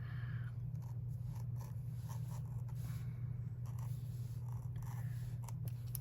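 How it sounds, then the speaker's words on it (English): A craft knife trims paper around a flower cutout for a scrapbook journal, making faint, intermittent scratchy cuts over a steady low hum. "Our craft knife to trim around this flower."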